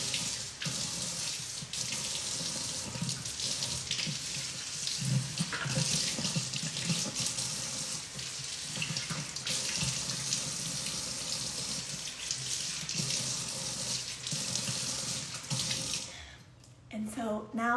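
Water runs steadily from a sink tap while a face is rinsed, a close, continuous hiss and splash lasting throughout with slight shifts as hands move through the stream, briefly dipping near the end; no talking.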